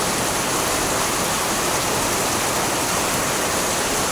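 Floodwater overflowing and rushing near a house, rising up to the garden plants: a loud, steady, broadband roar of churning water filling the whole clip, with no voices.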